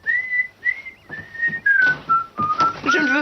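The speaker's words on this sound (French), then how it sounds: "Je ne veux pas vous entendre siffler." A person whistles a short melodic phrase of sustained, gliding notes, clear and close, with brief gaps between phrases and no talking.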